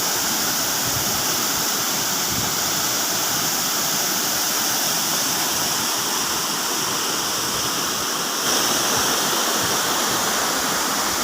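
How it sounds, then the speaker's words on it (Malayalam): Cheeyappara waterfall at Adimali in Idukki, on the road to Munnar, gives a loud, steady roaring rush of falling water that stays unbroken throughout, with no voices. "ചീയപ്പാറ വെള്ളച്ചാട്ടം നിങ്ങൾക്ക് കാണാനായിട്ട് കഴിയും"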